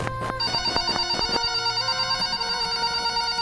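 A phone rings indoors with a bright, electronic tonal ringtone that starts with a few sharp pulses and then sustains as steady ringing, with no talking over it.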